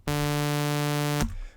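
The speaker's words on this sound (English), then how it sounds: "let's go to Serum, initiate preset, it's going to sound like this." Serum's initial preset plays a single sustained synthesizer tone that is bright, buzzy and harmonically rich. It holds steady for about a second and then cuts off, leaving a brief faint tail.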